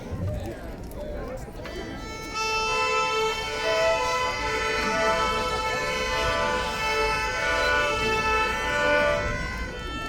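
A school orchestra's instruments imitate fire engine sirens with sustained, layered wailing tones that swell in after a brief pause and hold steadily, loud and close, with voices talking underneath.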